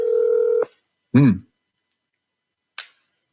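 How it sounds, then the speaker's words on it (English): Telephone dialed to place a call during a live sports talk show. A steady dial-type tone is followed by a short electronic chirp, then a sharp click, all loud and close. "Julio, have the guts to pick up the phone"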